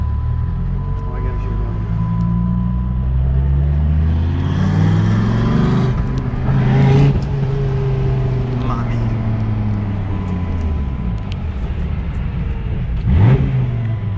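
Dodge Viper engine revving on a slow lap with a passenger aboard, loud and close throughout, pitch climbing and falling in repeated sweeps, with people talking over it.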